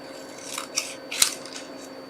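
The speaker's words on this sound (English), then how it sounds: "cut that out" Scissors snip through card paper while a birthday card is being made, with several close, crisp cutting strokes in quick succession and no talking.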